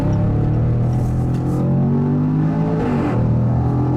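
A 2019 Range Rover Sport SVR engine revs loud and close, a deep rumbling drone with rising and falling harmonic sweeps that climb and dip twice, heard from inside the car with no talking.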